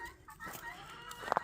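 Guinea hens calling outdoors on a farm, harsh clucking cries with a few sharp, close squawks at the end.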